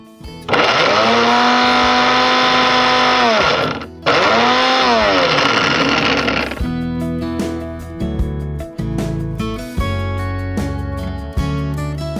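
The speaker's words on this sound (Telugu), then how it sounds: "ఇప్పుడు ఇవన్నీ కలిపి మిక్సీ పట్టుకోవాలి." A mixer grinder whirs loudly as it grinds dry-roasted oats, nuts and dates in two bursts separated by a short pause, each winding down before music takes over.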